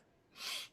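A single sharp sneeze bursts out after a moment of quiet, a breathy hiss-like blast that fades quickly.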